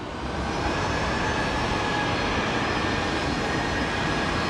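Southwest airplanes departing at Phoenix Sky Harbor International Airport, a continuous broad jet roar holding steady and loud for several seconds with no gaps.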